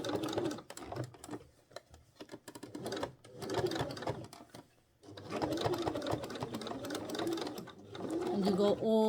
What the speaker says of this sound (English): you just stitch this all the way around to where the facing is